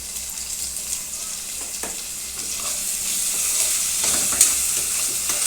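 Tomatoes drop into potato gravy in a hot pan, and a steady broadband sizzle hisses throughout with a few soft clicks and a slight swell toward the end.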